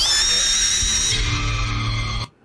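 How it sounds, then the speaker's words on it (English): A loud, sustained scream from a cartoon scene in an Extreme Ghostbusters episode, holding steady for about two seconds, shifting lower partway through, then cutting off abruptly into near silence. "ended the scene with a scream"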